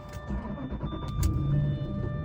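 A Jeep Cherokee XJ engine cranks and fires up, with a steady idle rumble building over the short stretch, close by and moderately loud with no talking.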